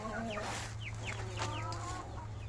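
Several Ayam Cemani crossbreed roosters cluck and squawk in short bursts over a steady low hum on a farm, with faint voices in the background.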